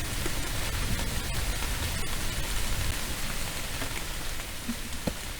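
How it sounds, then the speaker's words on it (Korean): Steady rain falls outside a small workroom, a dense, even hiss of drops on surfaces with occasional louder individual drips, continuous throughout with no voices. "비가 오네요"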